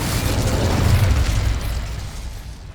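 A fire spell bursts out in Hogwarts Legacy as a loud, close whooshing roar of flame that swells and then fades over a few seconds, with no talking.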